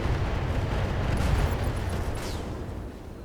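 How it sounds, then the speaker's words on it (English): Ammunition explosion in the Battletech video game (version 1.71, career mode): a broad, dense rumbling blast that stays loud and sustained throughout, with crackling debris and a faint rising whine near the end, no talking. "But the ammo explosion will do."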